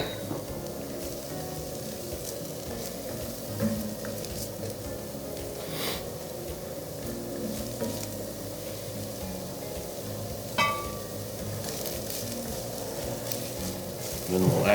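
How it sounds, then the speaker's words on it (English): Green onions sizzle in olive oil in a pan, a steady close crackling hiss that runs throughout with occasional stirring knocks. "start with the green onions, toss those in first, and kind of stir those around for a minute or so"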